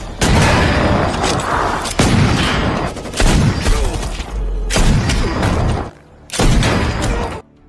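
Gunfire in a battle scene from the film The Plane, with dense loud bursts of shots and booms coming in repeated waves, a brief lull, then another heavy volley.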